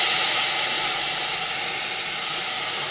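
Sugar and a little water heating in a wok toward caramel, giving a steady, even hiss that holds at one level throughout, close and fairly loud with no talk over it.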